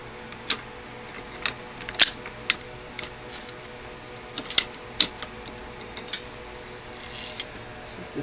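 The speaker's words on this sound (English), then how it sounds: "Go ahead and bolt back in there." Mosin Nagant rifle bolt being slid back into the receiver during refinishing, heard as a scattered series of faint metallic clicks and sharp ticks at close range, with no talking.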